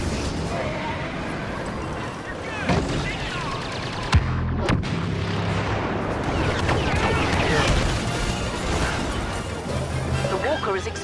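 Y-wing bombers make an attack run in Star Wars Battlefront, with booming explosions and blaster fire under loud battle noise, a sharp blast standing out near the middle while a voice talks over the action.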